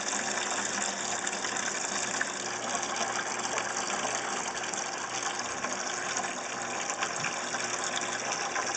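Water is siphoned out of an aquarium holding brine shrimp and baby Banggai cardinalfish, a steady soft gushing trickle with a constant faint hum underneath and no speech.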